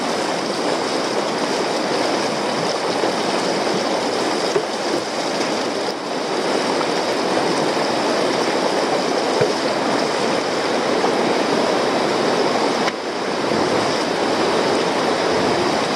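A fast-flowing river rushes past up close, a loud, dense, unbroken roar of churning water that stays steady from start to finish with no talking.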